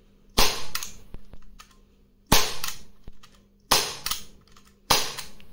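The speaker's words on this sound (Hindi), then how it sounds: "ये देखिए अभी ये 4 BBs हैं, मैं फायर करूँगा।" An Umarex Glock Gen 5 CO2 blowback air pistol fires four BBs, four sharp loud cracks spaced roughly a second or more apart, each with a short echoing tail and faint mechanical clicks between.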